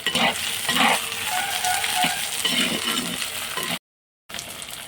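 Sliced tomatoes and green chillies dropping into onions frying in a pan for mutton curry: a loud, steady sizzle with stirring and shifting bursts, broken by a brief moment of silence near the end.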